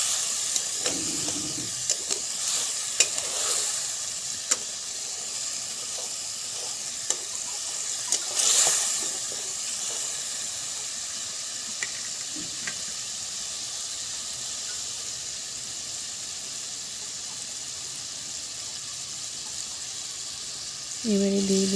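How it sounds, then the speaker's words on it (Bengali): Masala with chili powder soft-sizzling in a pan while being stirred for prawn malai curry, a steady low hiss with occasional scraping of the spoon, close and fairly quiet throughout. "এবার ভালো করে মশলাটা কষিয়ে নেব।"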